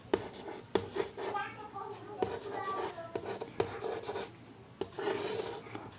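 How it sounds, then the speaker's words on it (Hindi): A pen scratches across paper while a family-tree form is filled in, with short rasping strokes and taps in quick irregular bursts, close up, and a voice talking over much of it. "और यहाँ पर लिखेंगे"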